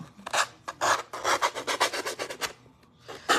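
Rapid rasping strokes of a sanding block scraping back and forth in quick bursts, close by, with a short pause before the rubbing resumes.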